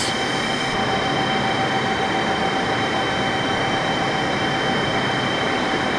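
Airliner engines in Microsoft Flight Simulator roar as a steady, loud, dense broadband drone with a constant high whine running underneath, unchanging throughout.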